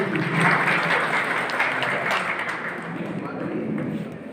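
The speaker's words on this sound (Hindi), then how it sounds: "जोरदार तालियां पवार सर" An audience at an honour ceremony claps steadily and loudly for a teacher, a dense wash of applause that tapers slightly toward the end, with voices mixed in.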